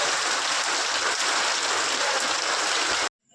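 Steady heavy rain pouring down in Vadnagar, Gujarat, at night, a dense, even hiss that continues without a break until it cuts off abruptly near the end.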